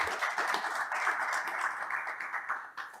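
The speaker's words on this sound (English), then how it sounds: "another round of applause for our esteemed panel today" A steady wash of clapping from an audience applauding a panel of community leaders at a grassroots organizing event, sustained and even throughout, easing slightly toward the end.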